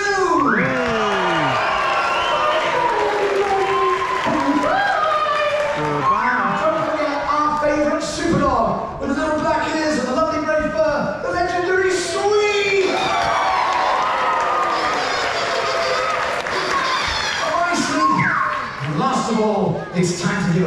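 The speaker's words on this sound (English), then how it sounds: "a big cheer and a big applause for my favourite panda and yours" Children's show crowd cheering and clapping at a live Sooty birthday event at Crealy, a loud, sustained wash of shouts, whoops and applause from a big audience, with a presenter's voice booming over it.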